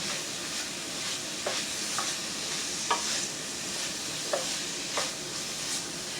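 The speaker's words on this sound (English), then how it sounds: "we are merely, excuse me, sauteing our peppers and onions and getting that initial raw taste off of it" Peppers and onions sautéing in a pan for meatloaf, a soft continuous sizzle with a few sharp scraping clicks of a utensil stirring, close by and without talk.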